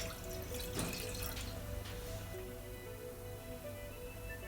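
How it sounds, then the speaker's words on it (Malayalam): A cup of water poured into a pan, faintly splashing and trickling in a couple of brief bursts against a soft steady background. "അതിലേക്ക് 1 കപ്പ് വെള്ളം ഒഴിക്കുക."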